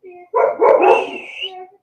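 A puppy lets out a short run of excited, high yips and barks close by, bursting out suddenly and then trailing off into a whiny tail.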